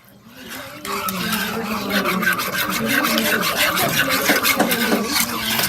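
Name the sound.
stirring milk into béchamel sauce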